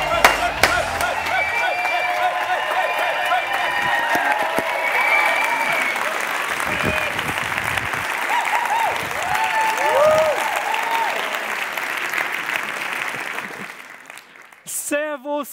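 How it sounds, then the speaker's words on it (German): Church congregation at an ICF service in Munich cheering and applauding loudly, with sustained dense clapping and whoops for about fourteen seconds before it fades and a voice begins speaking at the end. "Liebes ISF, lasst uns ausflippen, lasst uns jubeln"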